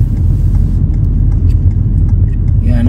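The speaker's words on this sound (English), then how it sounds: "I'm going to turn my car around." A car engine hums steadily from inside the cabin as the car turns around near a petrol station, a constant low rumble with light road noise.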